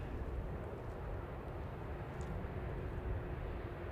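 At Manchester Airport, an aircraft passes with a faint, even, low rumbling roar heard from a distance throughout.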